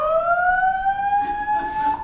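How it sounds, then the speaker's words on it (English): A loud, steady siren tone in New York rising slowly in pitch, sounding close and unbroken for a couple of seconds. "it's not New York without a siren."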